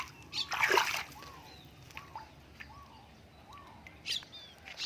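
Red azolla tipped into water holding golden apple snails gives a brief close splash and slosh near the start, then quiet water with small chirping birds in the background.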